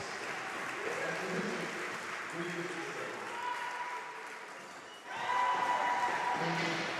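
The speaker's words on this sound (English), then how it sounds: "He gets a huge round of applause from Loddon Valley." Basketball crowd applause at an NBL game between Reading Rockets and Bristol Hurricanes: distant, moderately quiet clapping and cheering from the stands, sustained for several seconds under a commentator's voice, swelling briefly after the midpoint.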